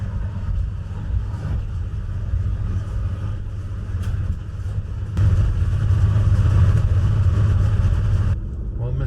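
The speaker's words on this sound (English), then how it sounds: "We're just waiting on the bus. It's warming up." A tour bus engine idles as it warms up on a starry night before a Sandhill crane viewing trip near North Platte, Nebraska, a steady low rumble that swells louder midway, with voices murmuring faintly underneath.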